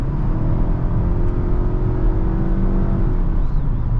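A 2022 Nissan Altima with a naturally aspirated 2.5-litre four-cylinder engine accelerating from about 50–55 mph, heard from inside the cabin as a steady loud engine drone and road rumble throughout.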